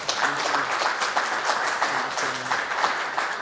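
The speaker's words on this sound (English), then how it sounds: "I think we all need to give him an applause" An audience applauds a young innovator at a gathering, with continuous, moderately loud clapping from a crowd that holds steady throughout and carries a faint murmur of voices underneath.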